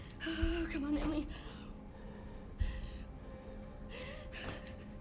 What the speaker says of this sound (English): I heard like the breathing is for like drowned victims